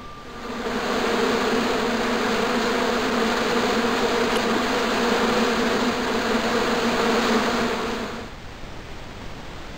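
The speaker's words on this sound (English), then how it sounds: "As I walked towards the bush, it started buzzing angrily." Hornets buzz angrily from a bush on an island in the game Broken Sword II, a dense, steady, loud drone that holds evenly for about eight seconds before cutting off, with no talking.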